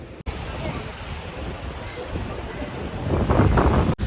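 Sea waves and gusty wind at Marine Drive, Mumbai, a loud continuous rush with heavy wind buffeting on the microphone and a swell of surf near the end.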